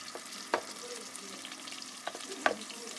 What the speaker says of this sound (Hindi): प्याज को डालकर दोस्तों थोड़ा सी बुनाई कर लेंगे, लाइटली ब्राउन करना है बस